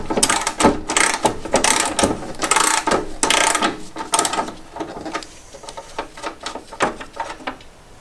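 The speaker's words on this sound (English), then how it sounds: "To get to the cover for the hydraulic oil return filter, we need to take this cover off. There's 3 bolts here and 1 in the back" A ratchet wrench removes the bolts from the hydraulic oil return filter cover on a mini excavator, giving close, rapid bursts of metallic clicking in uneven spurts that thin out toward the end.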